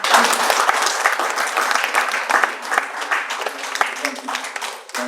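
An audience at a keynote talk breaks into applause, a loud, continuous crackle of many hands clapping close by, with a speaker's voice briefly over it.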